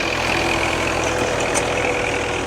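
Massey Ferguson 165 tractor pulling a three-furrow plough in a field at an old-machinery ploughing show, its diesel engine a loud, steady low rumble throughout.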